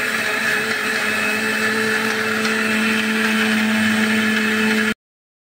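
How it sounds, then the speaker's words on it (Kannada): A mixer grinder runs steadily at high speed, grinding a spice masala paste with added water, a loud continuous whirring drone that cuts off abruptly at the end. "ಈಗ ನೀರನ್ನು ಹಾಕಿ ನಯವಾಗಿ ಕಡಿಯುವಂಥದ್ದು"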